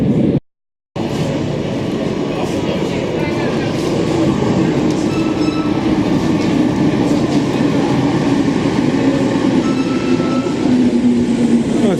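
Steady rumbling rush of a Paris commuter train from Mitry in motion, a continuous low roar with faint rail noise throughout after a brief silent start.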